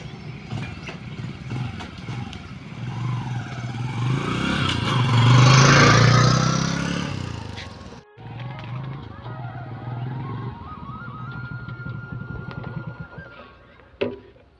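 A motorcycle engine idles and revs up, swelling loud around the middle before cutting off, then running again with a steadier hum; voices talk over it throughout.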